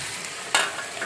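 Chopped potatoes dropped into meat frying in a pan, a soft steady sizzle broken by one sharp burst as they land, close and short.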